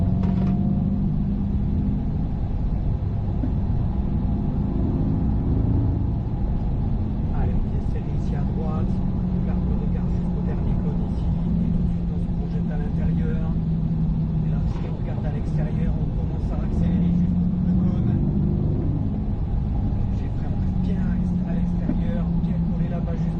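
Corvette C8 pulling away on a race track, its engine a steady low drone with rising and falling pitch sweeps as it accelerates through the gears, loud and close throughout, with some talk over it.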